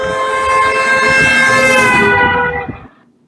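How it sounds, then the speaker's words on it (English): A car horn blares steadily as the car drives past, its sustained tone sliding down in pitch as it goes by. It is loud and close, then cuts off sharply near the end, leaving near-silence. "is the sound of the car going past"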